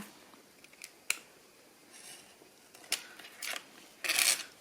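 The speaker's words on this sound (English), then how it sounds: "I'm just going to trim this off." Scissors trimming pink paper around the edges, a few sparse, crisp snips and rustles close by in an otherwise quiet room.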